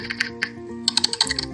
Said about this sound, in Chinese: 然后还有机械，比如打字声、